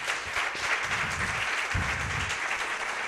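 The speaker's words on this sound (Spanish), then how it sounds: "Eso merece un buen aplauso," A church congregation applauds during a sermon, a steady, dense wash of many hands clapping that fills the hall at moderate volume without a break.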